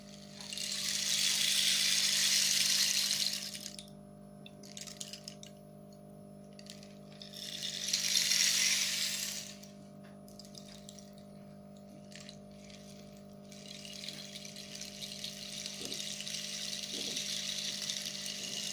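A handled rainmaker rain stick wrapped in multicolored twine being tipped, giving a pebbly beach-like rattling cascade in two loud swells, then quieter tinkling over a steady background hum.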